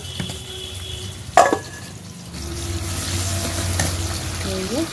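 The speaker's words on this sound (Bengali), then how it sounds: "আমি রসুনের কুচি দিয়ে দিলাম, মানে থেতো করে নিয়েছি।" Crushed garlic frying in mustard oil in a wok, a steady close sizzle that starts quietly, spikes with a brief clatter, then swells into louder continuous frying.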